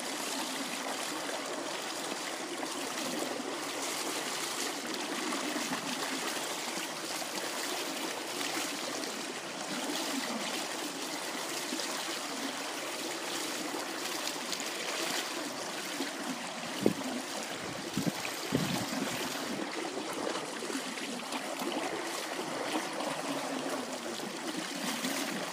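Water swirls and rushes steadily through a culvert, forming a funnel, with a continuous low, murmuring flow and a few brief bumps near the middle.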